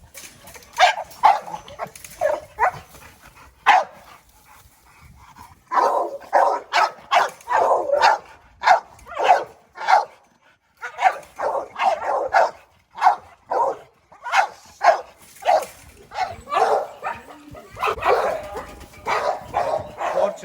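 Dogs bark repeatedly in quick bursts, fairly close, with short pauses between volleys and some yipping mixed in; an American Pit Bull Terrier and an American Staffordshire Terrier.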